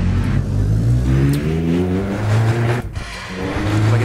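A Toyota Innova in Assetto Corsa revs hard, its mid-pitched engine climbing and falling through rising harmonic sweeps, loud and close throughout, with a brief dip near the end before the throttle opens again.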